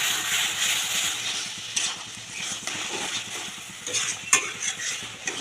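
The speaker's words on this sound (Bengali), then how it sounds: "এবারে নুন হলুদ মাখানো চিকেনটা দিয়ে দিচ্ছি।" Chicken rubbed with turmeric and salt is added to a spice paste frying in oil, giving a constant close sizzle with repeated spoon-stirring scrapes and light clinks against the pan.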